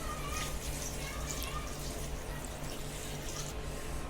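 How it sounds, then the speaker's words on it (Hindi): Water runs steadily from a tap or is poured into a cooking pot of chicken kabsa with rice, a continuous splashing rush with fizzy bubbling, fairly close and uninterrupted throughout. "अब हम इसमें पानी ऐड करेंगे"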